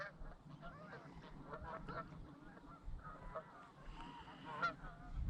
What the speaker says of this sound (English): Canadian geese by the looks of it.